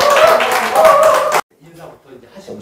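Audience at a church gathering claps loudly and steadily to welcome a speaker, then the applause cuts off abruptly and quiet talk follows.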